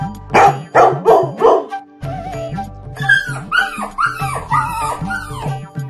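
A dog barks in a Hindi story, loud and close: a quick run of four sharp barks, a brief pause, then a longer series of yelping, whimpering barks in uneven rhythm.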